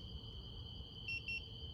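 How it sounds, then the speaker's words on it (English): Two short electronic beeps from a Mevo golf launch monitor during startup, close and clear over a steady background hum, heard alone with no talk. "There we go. Got the beep."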